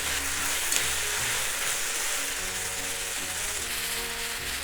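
Udon noodles with soy sauce stir-fry in a pan with a constant close sizzle, with low tonal hum and faint scraping under it, steady throughout and no talking.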